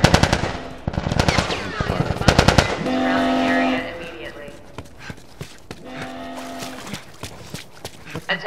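Rapid automatic gunfire bursts in The Last of Us during a Quarantine Zone checkpoint fight, loud and close, with shouting voices between volleys and a lingering alarm-like tone afterward.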